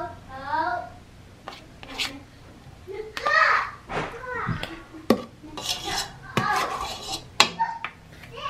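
Potato salad with cheese and bacon scraped out of a small casserole dish, with intermittent utensil scrapes and clinks against the dish, mixed with a voice and adult talking nearby.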